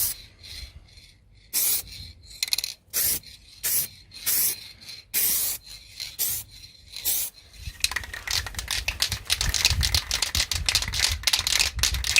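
A spray gun lays a light coat of paint over a primed panel on a Vauxhall Astra H, first in short rhythmic bursts of hissing, then in a longer, denser continuous spray, close and loud.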